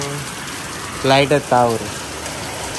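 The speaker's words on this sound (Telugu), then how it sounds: "దగ్గర దగ్గర ఒక అర్ధగంట ఘోరంగా అంటే ఘోరంగా వాన కొడుతుంది" Heavy rain pours down steadily as a constant dense hiss throughout, with a short burst of nearby talking over it midway.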